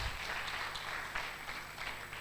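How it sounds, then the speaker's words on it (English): Audience applause for a young musician at a project event on ending child marriage in Nigeria, a soft, steady patter of clapping from a modest crowd, faint and continuous, with no talk. "So please, a round of applause for Isaiah."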